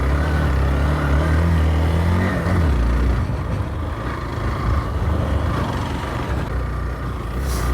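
An XPULSE 200 motorcycle labors in first gear on a dirt trail, its engine droning loud and steady with a low rumble that dips and shifts pitch partway through.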